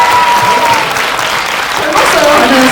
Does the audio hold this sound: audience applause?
yes